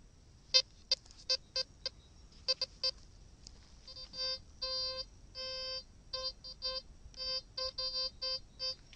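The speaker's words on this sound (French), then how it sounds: "Ça c'est le détecteur qui détecte en fait la poterie comme du métal parce que les effets de sol sont réglés au minimum." A VLF metal detector gives a series of sharp electronic beeps over strongly mineralised pottery with ground balance set to minimum: quick isolated bleeps at first, then longer clustered tonal signals in an uneven rhythm, clear against a quiet background.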